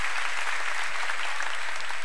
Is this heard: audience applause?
yes